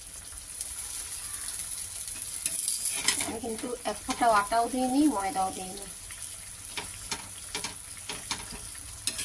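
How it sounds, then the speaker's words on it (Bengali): Porota flatbread frying in oil, sizzling softly and steadily while someone talks over it. "এইটাও এরকমভাবে ভেজে নেব।"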